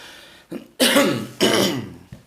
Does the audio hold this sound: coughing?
yes